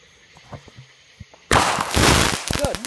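A fireworks mortar shell bursts right out of its launch tube: quiet clicks and faint knocks first, then a sudden loud near explosion with a long crackling roar that fades, a few voiced sounds at the end.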